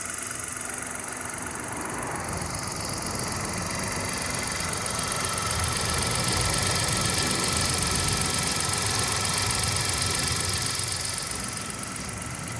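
A 2016 Hyundai i10 1.0 Blue Drive engine idles steadily and close by, a continuous even three-cylinder hum with slight vibration and no talk.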